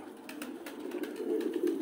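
Pigeons coo steadily in soft, repeated calls at a pigeon keeper's rooftop loft over a house in Nakhalovka, Tbilisi, Georgia, a low continuous murmur with no talk.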